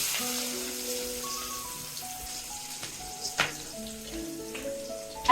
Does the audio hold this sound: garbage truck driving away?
no